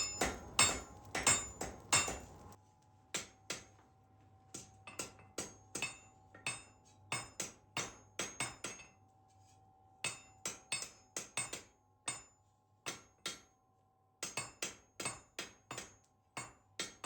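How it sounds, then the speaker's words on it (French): Hammer blows ring out on metal at a forge, a fast run of sharp clanging strikes at first, then spaced single and paired hits with a steady metallic ring and hum between them, close and loud, no talk. "tout n'était qu'une question de maniement du marteau"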